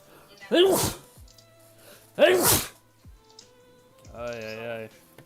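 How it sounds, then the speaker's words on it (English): Two loud, sharp human sneezes come about two seconds apart, followed by a brief voiced sound, with light clicking in the quiet gaps between. "Sneeze that trash out of me."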